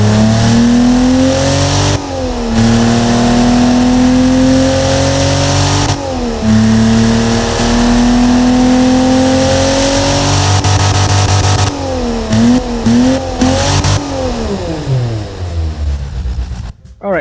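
Simulated 1974 Ford 300ci inline-six revving loudly and close, with a few sustained climbs and drops in pitch, a burst of quick throttle blips near the end, then the revs falling away.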